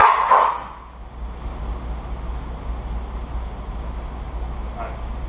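An Australian Shepherd during an aggression evaluation gives a sharp, close bark or yip at the start and another brief one near the end. Between them there is a low background rumble, with people talking nearby.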